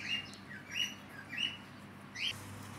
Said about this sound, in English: it is now time to install the parrot.